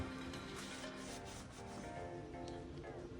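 Microfiber cloth wiping a car wheel makes a continuous close rubbing and scrubbing sound, steady and loud, with no talking.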